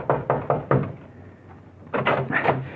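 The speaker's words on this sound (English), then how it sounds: "you pray there's still someone in the copy room as you pound on the door." Heavy pounding on a wooden door in an old radio drama, four loud thuds in quick succession, a pause, then a second burst of knocks, with no talk over them.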